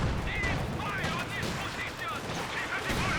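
Rifle fire and T-34 tank gunfire in the World War II strategy game Company of Heroes 2, dense crackling shots and bursts over battle noise, with a commentator talking throughout.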